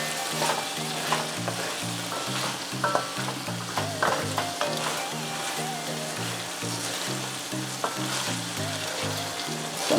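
Ackee and saltfish sizzle steadily in a frying pan while a spoon stirs through it, with a continuous close crackle broken by repeated scraping strokes; no voices.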